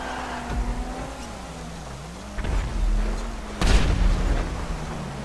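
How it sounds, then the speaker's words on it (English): Rocket explosions in the video game GTA: two loud, close booms a second or so apart rumble over a droning engine tone and background game noise. "My rockets just keep exploding right in my face."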